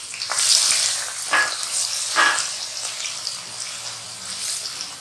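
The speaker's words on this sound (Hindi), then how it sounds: "प्याज को थोड़ा सा फ्राई करना है ऑयल में" Onions frying in hot oil over a moderate flame, a bright hissing sizzle with a few sharper bursts and stirring scrapes, close and fairly loud.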